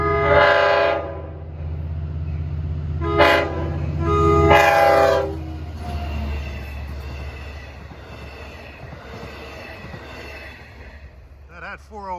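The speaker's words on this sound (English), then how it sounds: "That had 408 with a nice K5L horn, K5LL, excuse me." A Long Island Rail Road train, number 408, sounds its K5LL horn in several loud, clear blasts, then rumbles past with rolling wheel noise that fades out.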